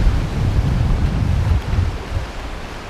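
Ocean waves at Nai Harn beach rush and wash in a continuous low roar, close and fairly loud, with wind buffeting the microphone and the surge easing slightly toward the end.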